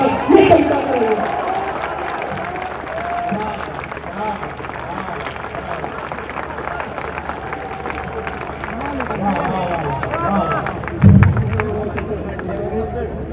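Crowd applause rises and settles among a live audience at a Hindi kavi sammelan poetry recital in Baraut, steady clapping with murmuring crowd noise throughout and a brief louder burst near the end.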